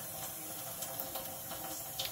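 Tap water runs into a kitchen sink as a steady, faint, even hiss of flowing water with small splashing variations and no talk.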